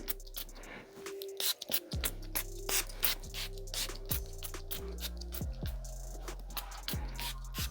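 A nearly empty perfume bottle sprays in short, uneven bursts and sputters, close and repeated several times with irregular spitting hisses and clicks of the nozzle.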